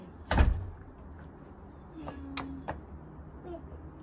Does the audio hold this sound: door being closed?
yes